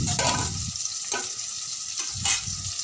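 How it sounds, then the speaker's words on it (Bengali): Pointed gourd sizzles in hot oil in a wok, a steady frying crackle broken by a few scraping bursts as the pieces are stirred. "তো কড়াইতে পটল ভাজছি"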